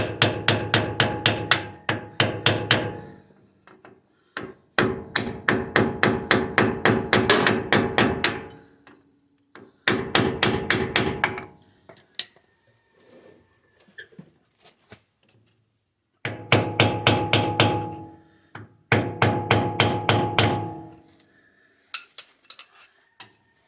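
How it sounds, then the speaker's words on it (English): A hammer taps on a Dana 44 axle U-joint in bursts of rapid, ringing metallic strikes, close and clear. Several volleys are separated by short pauses with faint clinks. "Give it a tapping right here."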